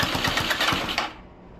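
A GY6 scooter engine mounted on a homemade run stand sputters briefly in rapid, rattly firing pulses, close and loud, then cuts off abruptly after about a second.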